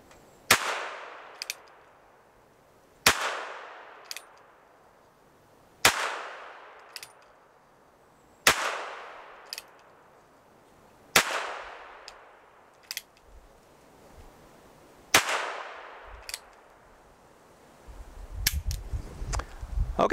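A Ruger Wrangler revolver is fired outdoors: seven sharp, loud shots spaced about three seconds apart, each ringing out and decaying, with faint clicks between them and a low rumble near the end.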